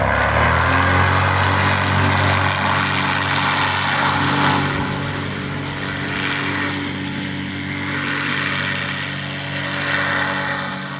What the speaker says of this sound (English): Here's Tim coming in for his landing.